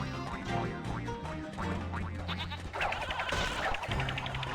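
Sheep in the Skylanders: Spyro's Adventure video game bleat repeatedly, several wavering calls overlapping with game music, loud and close.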